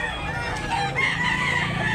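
A Lemon Sweater F1 rooster crows at a farm, one loud, sustained call held throughout, close to the microphone.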